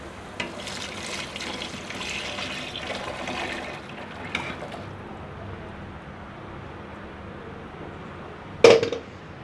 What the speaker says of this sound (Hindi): दही और बेसन वाली जो लस्सी मैंने बनाई है ना मैं इसमें डाल देती हूँ